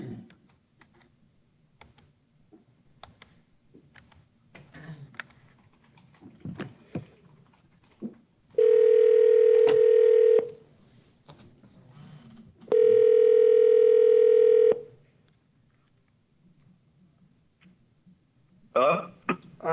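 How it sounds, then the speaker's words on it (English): Two long, loud steady telephone dial tone bursts sound, each lasting about two seconds, with faint keypad clicks and quiet background noise around them. "I'm just going to dial a number."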